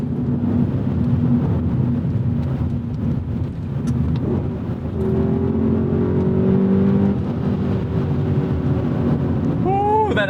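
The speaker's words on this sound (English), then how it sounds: "that Aston Martin V8 Vantage!" An Aston Martin V8 Vantage drives past with a loud, steady engine note that rises and falls over about ten seconds, its tone shifting as it goes by, with wind buffeting the microphone throughout.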